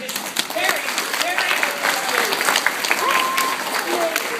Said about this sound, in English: So yeah, put your hands together